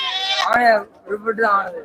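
Goats bleat loudly and close by at a Saturday livestock market, several wavering calls in quick succession with a brief sharp knock between them, voices of traders mixed in.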